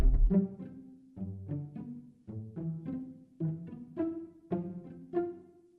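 Plucked string notes in short, evenly accented phrases, each pluck decaying quickly, played at a steady, uniform loudness.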